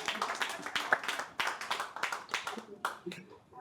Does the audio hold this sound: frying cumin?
no